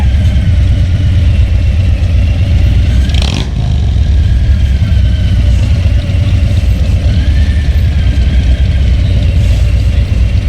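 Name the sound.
Softail motorcycle engine idling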